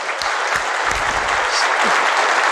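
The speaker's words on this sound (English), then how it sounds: "I'm going to ask you for one more round of applause for all the volunteers here today." Audience applause for event volunteers at a BSides security conference keynote, a dense, steady wash of many hands clapping that fills the whole stretch at even loudness.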